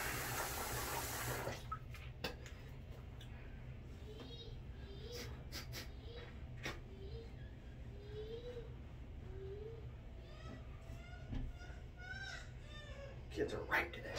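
A bathroom tap runs as a man wets his face before shaving, a loud gush at first that drops to a softer steady trickle with splashing, while he talks over it.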